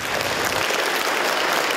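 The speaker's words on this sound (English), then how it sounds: "Applause for the trauma survivors who bravely shared their stories today at UF Health" Loud, sustained applause from a crowd, a dense wash of clapping hands that fills the whole moment without pause.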